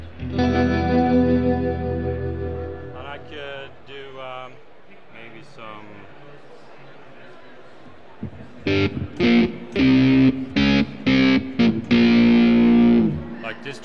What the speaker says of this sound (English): Like distortion, of course.